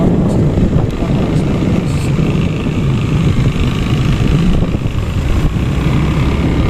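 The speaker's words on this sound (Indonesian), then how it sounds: "Kenceng banget toh mbak kalau naik motor" A motorcycle ridden fast, its broad low engine drone and wind rush holding steady and loud for the whole stretch with no break.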